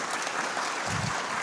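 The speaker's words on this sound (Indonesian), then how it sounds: "Boleh tepuk tangan buat semuanya." Crowd at a speech during an LDII national working meeting applauding in a short, steady wash of clapping.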